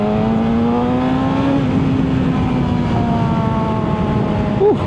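A 2025 BMW M 1000 XR motorcycle on overrun through a bend, its engine tone sliding downward in pitch with steady wind rush, ending in a brief pop.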